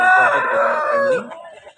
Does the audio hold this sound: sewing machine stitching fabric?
no